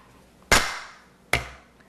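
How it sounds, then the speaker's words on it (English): Two sharp, loud whacks as a big cleaver pounds radishes on a cutting board, the blows spaced under a second apart, each ringing briefly before fading. "Okay, to pat it like that, to break this."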